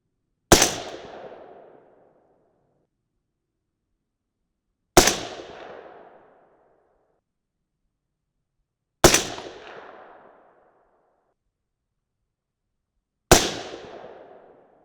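A 6.5 Creedmoor semi-automatic rifle firing 130-grain Sierra GameChanger rounds, four loud, sharp shots spaced about four seconds apart outdoors, each with a short decaying echo.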